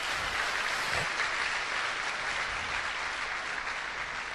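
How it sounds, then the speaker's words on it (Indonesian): Audience applause for a man named Teddy at a motivational talk, a steady dense wash of clapping filling the room, fairly loud and continuous throughout with no voices over it. "Beri aplaus buat Pak Teddy."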